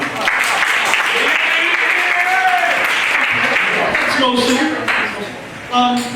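An audience at an after-prom hypnosis show applauds loudly and continuously, with cheering voices mixed in before it tapers off.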